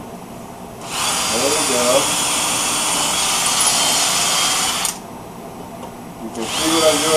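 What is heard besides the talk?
power drill drilling into wood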